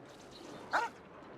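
A single short dog bark from a talking dog character in Genshin Impact, one clear yip over quiet background ambience.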